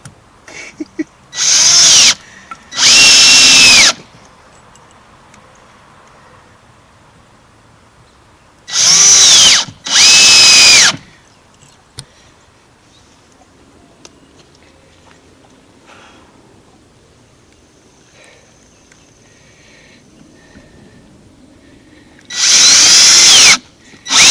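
A power drill drives screws into 2x4 lumber for a wooden trellis, in loud bursts of whirring about a second long, grouped in pairs. Quiet stretches with faint handling noise separate the bursts.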